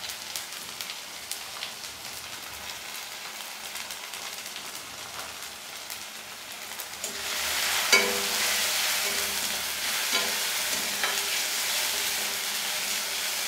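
Chopped tomato with salt and turmeric cooks in a pan over a gas flame, starting as a quiet simmer before a louder, steady sizzle and crackle takes over with a few sharp pops.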